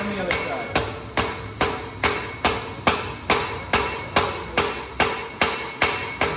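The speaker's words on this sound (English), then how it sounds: "go hammer on the side of that" Steady blacksmith hammer blows forging a dagger blade from a railroad spike, about two strikes per second in an even rhythm, close and ringing, with no talk over them.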